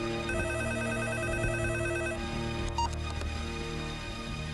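A telephone rings in repeated electronic trills, fairly close, with no voices over it.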